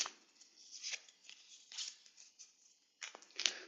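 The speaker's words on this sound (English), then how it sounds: "Now I'm shuffling." Soft riffling and slapping of tarot cards being shuffled, in several short bursts with brief gaps, close and fairly quiet.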